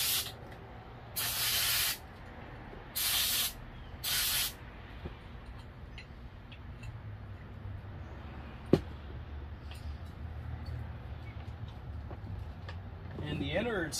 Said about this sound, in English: I'm gonna spray the piston with some brake clean, and then I'm gonna hit it with some blaster.